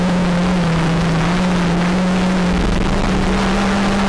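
Stock hatchback racing cars at Anglesey circuit drone past in a queue during a race, a steady loud engine whine holding one pitch with no voices.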